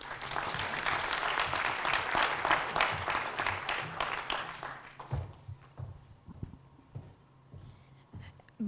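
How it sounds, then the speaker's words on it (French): Conference crowd at Agile Tour Paris 2017 gives a lively round of applause that holds strong for about five seconds, then thins quickly into a few scattered, isolated claps and quiet room noise. "Je vous demande d'applaudir Womenity."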